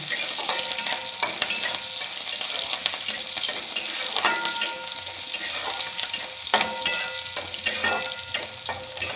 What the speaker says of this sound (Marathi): मिरची आणि लसूण छान असं फ्राय करून घ्यायची तेलापासून परतून घ्यायची